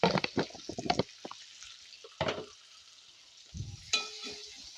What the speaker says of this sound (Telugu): ఉల్లిపాయ ముక్కలు బాగా ఎర్రగా వేగాలి